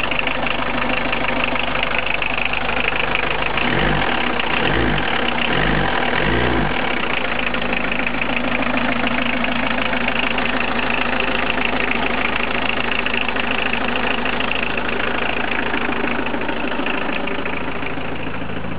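A Peugeot 309 with a 1.9-litre diesel engine idles steadily after a cold start in snowy weather, a loud, continuous clattering rumble with a few heavier low thumps early on and no talk.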